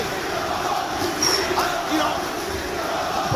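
A loud, dense wrestling crowd at ECW One Night Stand 2006, during John Cena versus Rob Van Dam, roars and chants continuously, many voices blending into a steady wall of noise.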